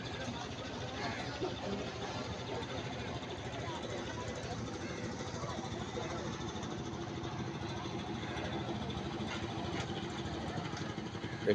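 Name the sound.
engine of a passenger trawler boat at a fish landing ghat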